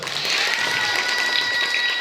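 Steady applause from a group of school students fills the space during a Juz 30 quiz competition, continuous and fairly loud throughout.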